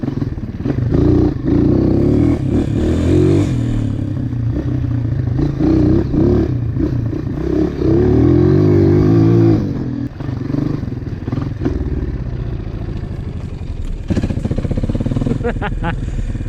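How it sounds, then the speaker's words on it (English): Honda CRF230 dirt bike engine firing up and revving, loud and close, a rough running drone with throttle swells throughout, with a person talking over it. "I'll shut it off, turn it on, fires up right away. When hot, good throttle response."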